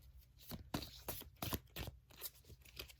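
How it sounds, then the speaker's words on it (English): Tarot cards shuffled by hand, a quiet run of crisp riffling bursts repeating every few tenths of a second, close and alone. "let's just shuffle, please."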